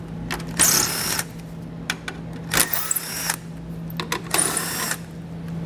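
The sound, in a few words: socket tool removing 7mm screws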